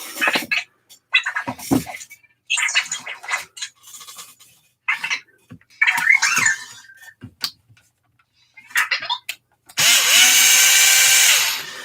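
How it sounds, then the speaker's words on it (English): A power screwdriver works on a Losi Lasernut RC car's front differential. Scattered short clicks and taps lead into a loud, sustained motor whine near the end, close to the listener. "I'll be using my driver as long as I find all of the driver bits."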